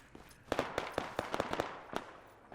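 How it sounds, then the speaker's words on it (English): Sporadic gunfire in the military shooter game Arma 3: a string of sharp, distant-sounding shots in irregular bursts, several close together and then a lone report, heard alone without talk. "There's some sporadic gunfire, obviously, that I can hear."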